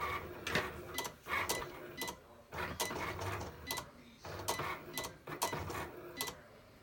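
Craft tools rattled in a container while someone hunts for a spatula during Cricut card-making: repeated bursts of metallic and plastic clatter in an uneven rhythm, close and fairly quiet, with short pauses between shakes.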